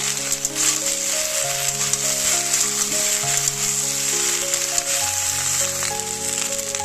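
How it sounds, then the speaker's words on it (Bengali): Okra tossed with a little turmeric fries in hot oil in a wok, giving a continuous bright sizzle and crackle that runs steadily under background music with no speech. "তো ঢেঁড়সগুলো আমি প্রথমে দিয়ে দিই, একটু ভাজা করে নেবো।"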